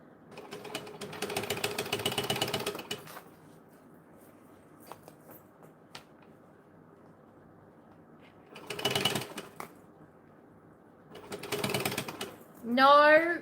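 Bursts of rapid mechanical whirring from a sewing machine, running for a few seconds at a time with quiet gaps between, plus a brief squeaky sound at the end.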